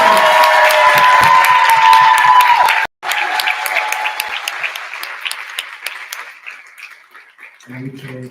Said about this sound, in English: So I would like for everyone to like make a round of applause for our